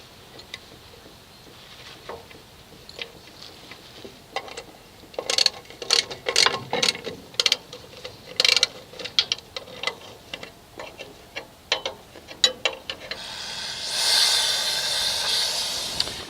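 Two bolts ratcheted into a rear wheel cylinder on a 1988-1998 Chevy K1500: close, crisp clicking in irregular runs, louder in the middle, ending in a soft hissing swell.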